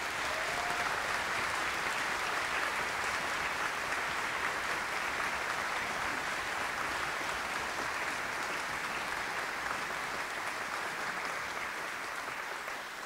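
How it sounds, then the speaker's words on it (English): Concert audience at a wind ensemble's bon voyage concert applauds with a dense, even, sustained clapping that holds steady for over twelve seconds, easing slightly at the end. "let's give them one more round of applause."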